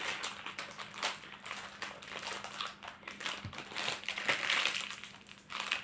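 Crinkly plastic wrapping on a pack of processed cheese slices is opened, giving a steady close-up rustling and crumpling that runs the whole time with small crackling bursts and no speech.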